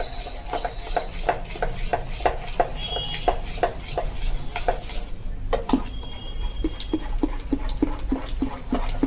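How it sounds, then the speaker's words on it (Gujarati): Handvo batter being beaten by hand in a vessel, a steady rapid rhythm of tapping strokes that pauses briefly midway and resumes, close and moderately loud with faint background noise and no talk. "આ રીતે તમે ફેટશો એટલે કણકણમાં હવા ભરાઈ જશે"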